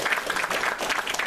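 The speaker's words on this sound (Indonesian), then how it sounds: "Boleh tepuk tangan untuk Rama." A short burst of clapping from a crowd, dense and steady, with no voices standing out.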